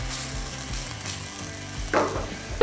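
Rice cakes for royal court tteokbokki stir-frying in cooking oil over high heat make a steady crackling sizzle under a low rumble, with a louder burst of frying near the end and a final scrape, no voices.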